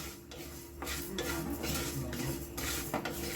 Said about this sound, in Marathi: एक चमचा बडीशाप एक चमचा जिरं हे सर्व नॉर्मल असं गरम करून घ्यायचं